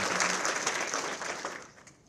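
Audience applause at a veterinary college building dedication ceremony, a dense wash of clapping that holds steady, then thins and fades toward the end.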